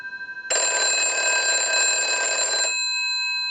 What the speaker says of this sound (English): we'll ring the unit now. It's got a very cool ring to it.